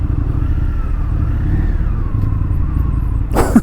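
An Indian FTR 1200 S motorcycle rumbles along at a steady engine note during a test ride in Orlando, a continuous low drone close to the rider, with a short burst of wind or clatter at the end.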